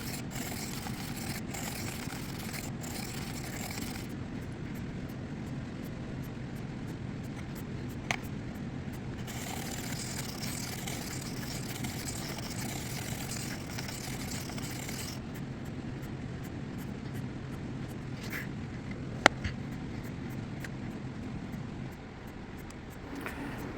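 A grinder works a blade through progressively finer sanding grits, a steady motor drone under an abrasive hiss that rises and falls as the steel contacts the belt, with a few faint clicks.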